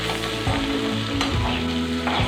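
Ingredients sautéing in a pan for tapioca (cassava) adai: a steady, close sizzle of frying with stirring scrapes running throughout, no talking.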